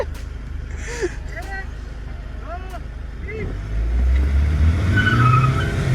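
A Hyundai Creta 1.5 diesel and a Hyundai Verna 1.6 diesel line up for a drag race. A low diesel engine rumble swells into a loud, sustained roar as they launch, after brief excited voices near the cars.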